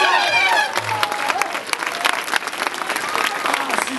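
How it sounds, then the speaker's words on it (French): A crowd at an elite trial bike super final in Clisson breaks into loud, dense clapping that carries on steadily to the end, with a voice audible just before it begins. "Applaudissements!"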